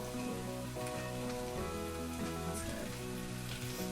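Vegetables frying in a hot pan on a gas stove give a loud, steady sizzle for the full four seconds, with sustained tonal sounds running underneath and no talking.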